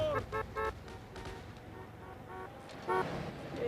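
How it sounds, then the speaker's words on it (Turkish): A car horn in GTA San Andreas toots in several short blasts over a low rumble of engine and traffic, with a louder honk near the end. "Evet hadi bas bas CJ. Düt düt düt düt düt"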